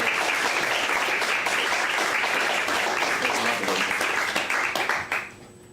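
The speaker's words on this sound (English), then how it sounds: "One more round of applause for Rick, please." Steady applause from an audience at a poetry reading for poet Rick Barot, continuous clapping that tapers off and fades out in the final second.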